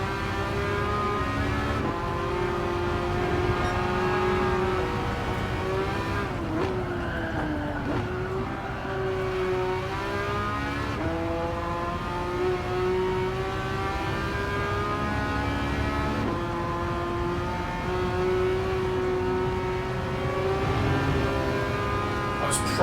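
A car engine in Gran Turismo 7 drones steadily with rising and falling revs through gear changes, continuous and loud for the whole stretch, with a brief skid-like sweep partway through.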